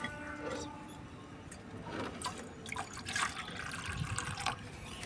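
Water poured steadily into a diluted beetroot solution being prepared as a fertilizer for chili plants, giving a continuous close splashing and trickling with small irregular bursts and no talk.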